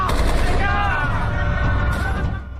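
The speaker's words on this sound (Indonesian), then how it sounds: "Dengan dibarengi tembakan ke langit" Gunshots fired skyward by a soldier commander in the 2017 film Night Bus, a loud dense burst of rapid gunfire layered under shouting voices and score.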